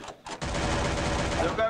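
Rapid, continuous MP5 submachine gun fire in a video game, loud and dense after a couple of short opening bursts, with speech faintly mixed in.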